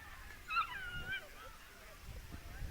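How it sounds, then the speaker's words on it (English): A dog whimpers and yips in a few thin, rising cries near the start, faint and brief beneath a commentator's steady talk at a youth Mosquito-level baseball playoff game. "case you're wondering what that noise is, folks, we got a dog around here."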